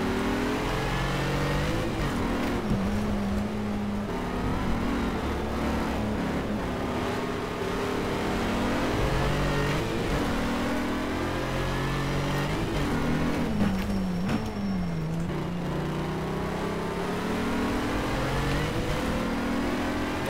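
Racing car engines in a Need For Speed game, with a Shelby Terlingua Ford Mustang among them, roaring and revving continuously as pitch rises and falls through gear changes, loud and close throughout.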